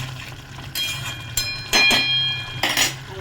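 A metal spoon scrapes and clinks in a pan of katla fish belly curry with potol, then a lid clatters on, giving a few sharp metallic knocks over a low background hum.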